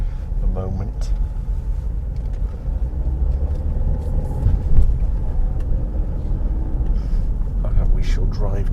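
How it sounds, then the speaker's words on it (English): Car driving through central London traffic near Buckingham Palace toward Victoria Station, a steady low engine and road rumble from inside the cabin, with faint outside traffic sounds and no clear talk. "We shall drive down towards Victoria Station, I think."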